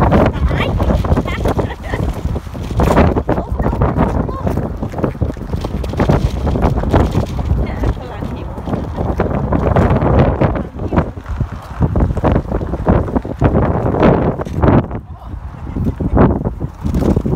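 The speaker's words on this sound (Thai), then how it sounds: "it's 3 degrees today but wind" Strong wind blowing outdoors on a cold, 3-degree day, buffeting the microphone with loud, gusty rumbling throughout while people talk over it.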